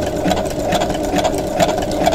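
A sewing machine fitted with a walking foot stitches pieces of scrap batting together, a steady close-up whir of rapid needle strokes running without pause and without talk.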